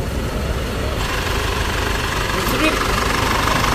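An Isuzu D-Max pickup's diesel engine idles with a steady, dense rumble and rattle, continuous and close, with a voice faintly present beneath it.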